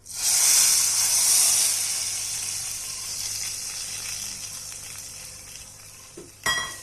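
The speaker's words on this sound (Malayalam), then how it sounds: "ഇതിലേക്ക് 2 തണ്ട് വേപ്പിലയും ചേർത്ത് നമുക്ക് കറിയിലേക്ക് ഒഴിച്ചു കൊടുക്കാം" Hot tempering of mustard seeds, dried chillies and curry leaves poured into a prawn and ridge gourd curry, a loud sudden sizzle that slowly fades, then a brief clatter at the end.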